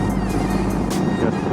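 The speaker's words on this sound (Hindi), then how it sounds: "बट टनल में जो साउंड है बाइक का वो अमेजिंग।" A motorbike engine roars steadily inside a long tunnel, a loud, booming, reverberant drone with the exhaust note echoing off the walls throughout.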